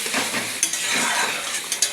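Eggplant fries in mustard paste in a pan with a continuous close sizzle, broken by light scrapes and clinks as a utensil stirs the pan.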